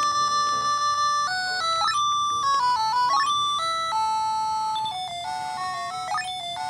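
Beeping chiptune melody from a Breakout game on an AGP2 handheld, a steady sequence of electronic square-wave tones stepping up and down in pitch, played alone without talk.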